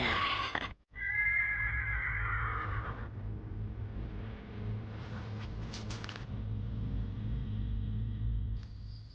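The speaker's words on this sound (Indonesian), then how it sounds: "Aku dengar suara ringkik kuda raksasa." A horse's neigh rises briefly near the start, then gives way to steady low rumbling background noise that continues through the rest of the clip.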